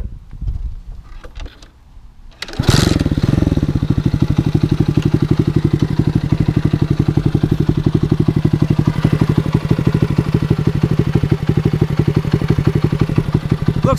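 A 1982 Honda C70 Passport fitted with a 125cc Lifan engine starts after some handling noises, then settles into a loud, steady, rapid putter of a small single-cylinder idle that continues close and unbroken.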